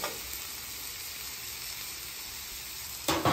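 Garlic and chorizo potatoes frying on a flat-top griddle, a steady close hiss of sizzling fat throughout, ending in a brief louder burst of crackle as food is stirred or added.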